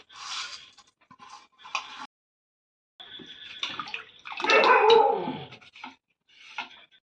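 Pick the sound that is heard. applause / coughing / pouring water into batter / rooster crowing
pouring water into batter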